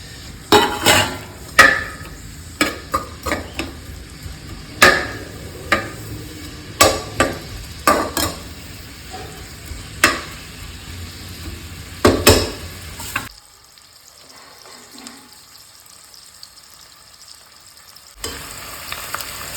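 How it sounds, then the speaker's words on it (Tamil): Sliced onions sauté in oil in a pan on the stove, a low steady sizzle punctuated by repeated sharp scrapes and clinks of a stirring spoon against the metal, then a few seconds of near silence before the sizzle returns. "தேவையான அளவு எண்ணெய் ஊற்றிட்டு நறுக்கிய பல்லாரியை போட்டு கொஞ்சம் பொன்னிறமாக வர வரையும் வதக்கணும்"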